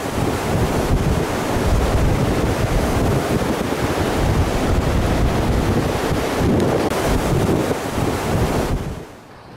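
Freezing wind roars steadily along the sandy Lake Michigan shore, a loud continuous gusting blast with surf-like rushing and microphone buffeting that drops away abruptly near the end.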